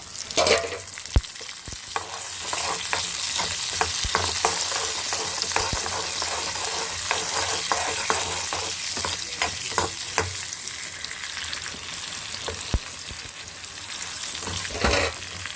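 Potatoes stir-frying in a pan with a continuous loud sizzle, punctuated by frequent spatula scrapes and taps, nearby and without talk.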